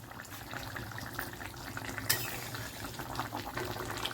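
Lemon chicken simmers in a covered pot over a low flame, a faint, steady bubbling hiss that continues evenly, with one small sharp tick partway through and no voices.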